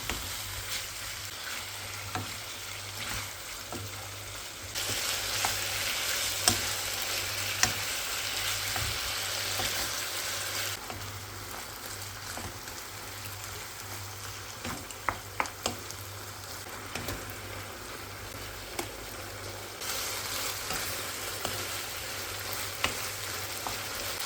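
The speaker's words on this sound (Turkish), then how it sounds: "Kızdırdığımız tavanın içine dinlendirdiğimiz tavuk etlerini koyup" Chicken fries steadily in a hot pan, a loud continuous sizzle with occasional pops and faint stirring clicks.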